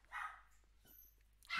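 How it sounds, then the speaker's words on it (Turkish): Dogs bark in the background during a Valorant session, with two short faint barks at the start and end and quiet room noise between them. "Abi arkada köpek mi var?"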